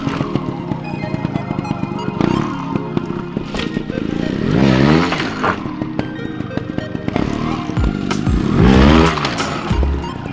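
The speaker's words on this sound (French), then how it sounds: "la façon la plus simple pour monter une marche en moto trial" A trial motorcycle climbing a step, heard up close as revving engine bursts with rising pitch and clattering over steady idle, loud throughout.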